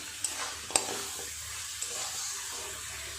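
Slit green chillies frying in a spicy, oily crab curry, a faint steady sizzle with a few brief clinks and stirring scrapes, no talk.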